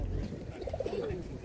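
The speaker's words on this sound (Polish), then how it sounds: "Tu kolega Edek ma naprawdę bardzo godne polecenia gołębki, pędzone, gonione, ścinowane" Soft cooing from white pigeons at a pigeon market in Radom, a few low rolling coos heard close by over market bustle and low voices.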